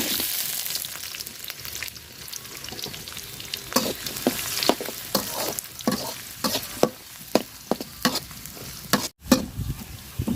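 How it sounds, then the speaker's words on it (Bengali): Chopped onion and whole garam masala fry in hot oil for beef tongue bhuna, a continuous close sizzle punctuated by frequent sharp scrapes and clacks of a spatula stirring against the pan. "লাল লাল করে ভাজা নিচ্ছি"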